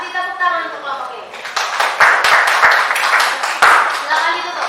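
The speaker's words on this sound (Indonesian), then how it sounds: "kasih tepuk tangan untuk kelompok ini." Classroom of students applauding a group after their presentation, with dense clapping building over the second half while a teacher speaks over the start.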